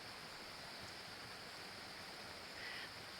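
The Cowichan River flows past at close range, a steady broadband rush of moving water with no talking and no other sounds.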